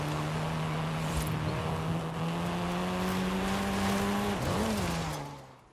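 A car engine hums and revs in Forza Horizon 5, steady tone rising slightly, then a quick pitch dip and swoop as it shifts or brakes, before fading out at the end; no voices.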